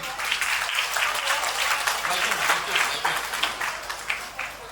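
A crowd at a motivational class gives a sustained round of applause, many hands clapping in a continuous, slightly uneven patter that holds steady for several seconds.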